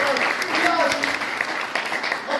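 Steady audience applause fills a dance camp's closing evening show after a theatre production is introduced, a dense, even wash of clapping with a few voices carrying through it.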